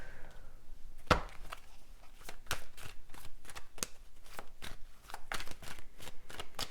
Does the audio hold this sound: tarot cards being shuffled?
yes